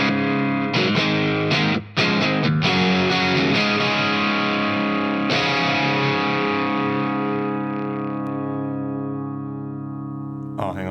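An electric guitar played through a ToneX with distortion and a reverb effect strikes a few quick chords, then lets one sustained, gritty chord ring out and slowly fade over its reverb tail.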